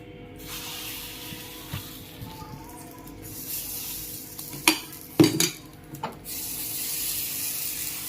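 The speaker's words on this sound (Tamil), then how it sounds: "இன்னொரு ஆப்பம் ஊற்றி காட்டுறேன்." Thinai (foxtail millet) appam batter goes into a hot pan, bringing a soft hiss and a few sharp scraping, clinking bursts around the middle before a quieter, steady sizzle resumes, with no speech.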